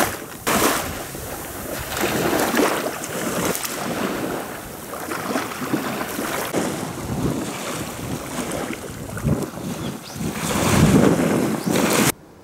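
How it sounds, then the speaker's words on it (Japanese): Waves wash along the Shimonoseki coast in steady outdoor wind, a continuous broadband rush of surf with gusts buffeting the microphone, no voices present. "下関の海岸です。"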